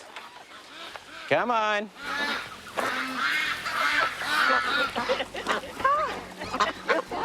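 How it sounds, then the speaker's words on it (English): Ducks being fed by hand give loud, close honking quacks in irregular bursts, with a person speaking briefly amid the birds. "Feeding the ducks is kind of scary, but then fun and ticklish, kind of."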